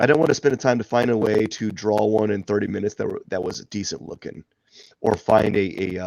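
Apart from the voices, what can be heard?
No everyday noise stands out behind the speech.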